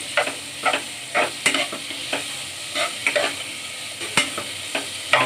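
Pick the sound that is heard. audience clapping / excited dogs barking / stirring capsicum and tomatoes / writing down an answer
stirring capsicum and tomatoes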